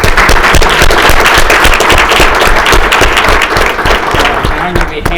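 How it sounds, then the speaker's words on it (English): Audience applause at a collegiate entrepreneurs high school pitch competition, loud dense clapping close by, holding steady for about five seconds and easing slightly at the end. "So I'd like to give a round of applause for this."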